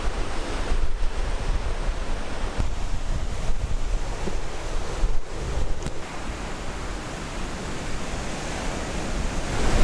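Ocean waves washing onto a beach near Mayan ruins, a steady broad roar of surf with heavy wind buffeting the microphone, continuous and fairly loud, no voices.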